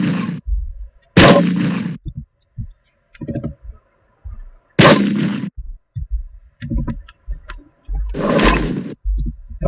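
New custom weapon sounds tested in a Counter-Strike mod: three loud, booming gunshot blasts a few seconds apart, each followed by shorter clicks and mechanical handling noises, with no talk.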